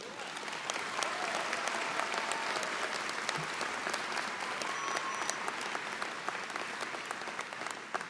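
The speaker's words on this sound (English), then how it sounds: "Hey, let's do one more round of applause." Audience applause for medical students at a white coat ceremony, steady dense clapping from a large crowd, sustained and even throughout without fading.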